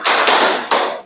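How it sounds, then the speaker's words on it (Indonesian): Two loud, crisp bursts of unison hand clapping from a class of students. The second comes after a short gap, and each clap rings briefly into the room. "Kita tepuk tangan lagi untuk mengakhiri."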